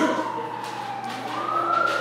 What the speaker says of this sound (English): this is like the 10th time the sirens went off